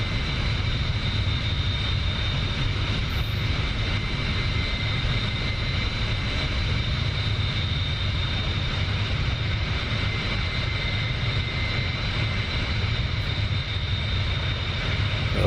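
A Bell 47 helicopter in the DCS flight simulator drones with a steady, loud engine and rotor roar that holds constant throughout, with no talking over it.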